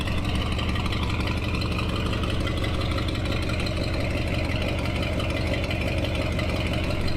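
A bone-stock farm truck engine idles with a new cheap exhaust, giving a steady, moderately loud rumbling drone that stays even throughout with no speech.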